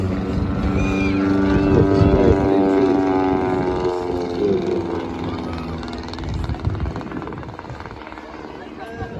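A Royal Aircraft Factory S.E.5a biplane flies at the Scottish Ayr Show 2023, its engine droning in a throbbing, slowly shifting tone that swells and then fades, with people talking over it.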